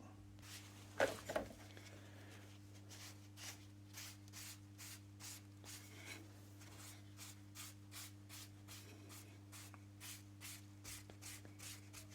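Sanding sealer sprayed onto an Atkins saw in short, evenly spaced hissing bursts, quiet against a steady workshop hum.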